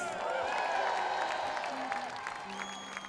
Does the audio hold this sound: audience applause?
yes